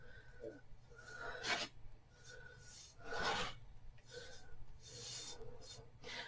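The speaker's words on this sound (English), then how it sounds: "So I'm just going to paint the edge." A paintbrush spreads Mod Podge along a metal edge in short rasping, rubbing strokes that come in several separate bursts, close and moderately loud.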